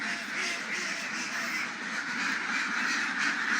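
Ducks quack continuously in a noisy flock on a duck farm, a constant chorus of overlapping calls with no talking.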